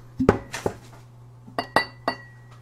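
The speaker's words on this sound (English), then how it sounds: "So let's go ahead and pour some in the glass here." High-proof blanco tequila poured into a glass, heard as a handful of close, sharp glass clinks and taps in two short bursts, with quiet gaps between.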